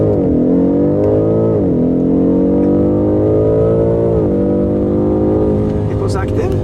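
A 625 hp BMW M5 Competition with M xDrive launches hard under launch control, the engine roaring loud and close as it climbs through gears with two clear shift dips, and voices talk quietly in the cabin.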